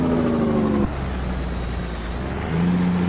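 A loud, heavy truck engine in American Truck Simulator drones close by, its steady rumble shifting pitch as it gears down and then climbs again.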